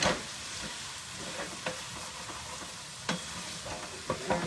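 Cabbage and green peas brown in hot oil in a pan, giving a loud, steady sizzle with occasional sharp clicks and scrapes from stirring.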